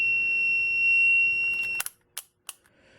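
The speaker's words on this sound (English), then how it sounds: "I have it hooked up to my multimeter here. And just to check continuity, we'll turn that on. And we have continuity." A multimeter continuity test gives a steady, high-pitched beep that holds for nearly two seconds and then stops, followed by a few sharp clicks and taps close by.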